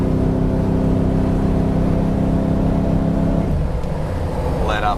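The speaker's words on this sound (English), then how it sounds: "It's got a great sounding motor and exhaust." Truck motor and exhaust pull hard up a hill, a steady loud engine drone with a shift in pitch partway through as the throttle changes, close and continuous throughout.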